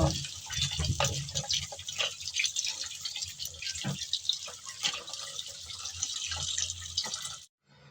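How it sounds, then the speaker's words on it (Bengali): Tap water running while teasel gourds are washed by hand in a kitchen, a continuous rushing stream broken by splashes and drips, cutting off abruptly just before the end. "শুরুতেই আমি কাঁকরোল ধুয়ে নিচ্ছি"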